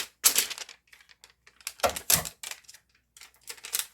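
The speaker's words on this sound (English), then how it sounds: "now what I'm going to do is I'm just going to cut off my excess" Sharp, close snips and crackles come in irregular bursts with quiet gaps as excess sticker material is cut off for a pet memorial plaque, with no talking.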